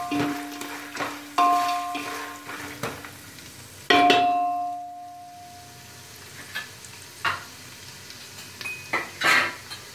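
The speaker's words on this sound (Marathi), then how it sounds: "मग त्यात डाळ टाका, अर्धी वाटी डाळ घेतली मी। व्यवस्थित फ्राय करा।" Half a cup of dal frying in a pan for puffed rice chivda, with a steady low sizzle under repeated spoon clinks and scrapes against the metal pan, close by and irregular.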